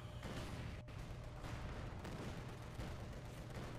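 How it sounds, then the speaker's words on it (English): Mortar fire and explosions in the wartime strategy game Company of Heroes 2, a continuous low rumble of distant shelling with scattered blasts and one sharp gap in the barrage. "Come on, mortars."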